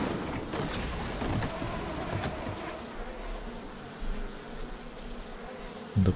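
Bees buzzing around hives in BioShock Remastered, a dense continuous insect drone with wavering pitch and a few louder passes, no voices.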